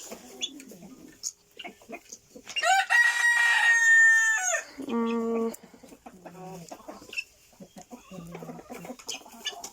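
A rooster crows loudly and close, one long rising call, while hens cluck in short bursts before and after. A person murmurs briefly.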